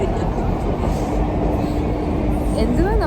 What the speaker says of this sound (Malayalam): ഇവിടുത്തെ ട്രെയിനിൽ ഇരുന്ന് പോവാ.